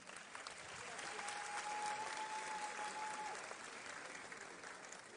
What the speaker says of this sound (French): On acclame bien fort, s'il vous plaît.